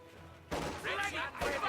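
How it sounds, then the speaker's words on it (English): Gunfire in Company of Heroes 2, with British troops fighting Wehrmacht mortars, comes as a sudden dense burst of shots followed by a second burst, loud and close amid battle noise. "I gotta pull back here because we are getting shot"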